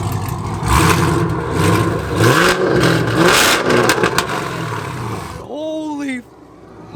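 A Camaro SS V8 with cheap headers revs loudly and roughly in several bursts, with excited voices talking over it before the engine drops away.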